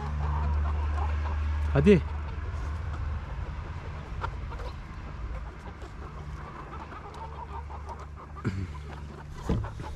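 Lohmann Sandy hens cluck and squawk intermittently nearby over a low background rumble, with a few short calls rising above the rest. Someone speaks briefly.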